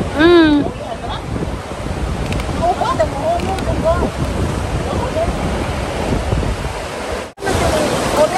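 Steady roar of sea waves and wind washes over the microphone, with distant voices and a brief bird-like chirp near the start.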